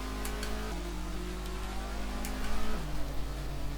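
A 2008 Dacia Logan drives a racetrack, its engine note holding a steady drone with gear-change drops in pitch, loud and close throughout, no talk.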